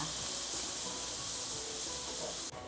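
Onions sizzle in a very hot skillet for a keto chicken stroganoff, a loud steady hiss filling the clip alone before it drops off abruptly near the end.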